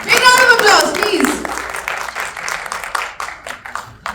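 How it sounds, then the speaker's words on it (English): An audience at a press meet in Dubai breaks into a scattered round of applause that rises under a voice and keeps going with uneven, close claps. "Big round of applause, please."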